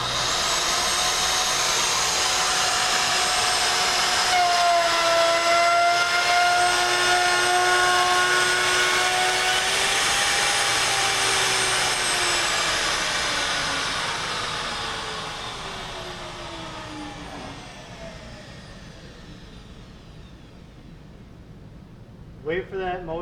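A loud, close router motor whines steadily as it cuts a rabbet through a board, its pitch shifting slightly under load. The motor then winds down over several seconds, and a few sharp knocks follow at the end.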